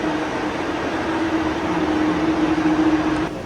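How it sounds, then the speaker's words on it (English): Inside a moving DC streetcar tram, a steady, moderate rumble and hum of the ride, with a faint tonal whine running through most of it and the noise dropping slightly at the very end. "First streetcar / tram that I've ever been on"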